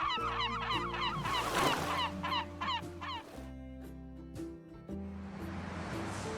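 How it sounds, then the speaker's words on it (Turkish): Geese or other fowl honk and call repeatedly in a loud, close flock, the harsh cries overlapping in quick irregular bursts. "ve kuşlar"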